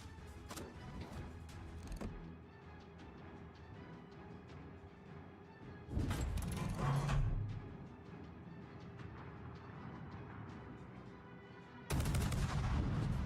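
Naval gunfire in World of Warships, with heavy shell blasts bursting loudly at about 6 and 12 seconds over a steady rumbling game backdrop scattered with sharp cracks.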